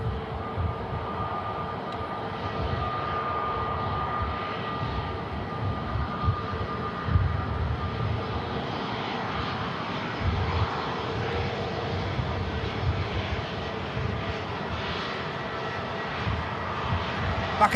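EasyJet airliner bound for Paris at Manchester Airport, a steady, moderately distant engine drone that holds throughout with a faint whine on top, with occasional voices in the background.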